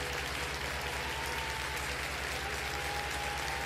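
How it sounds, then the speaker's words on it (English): Steady applause from a crowd, faint and continuous, with a low hum running underneath. "Big old round of applause for William."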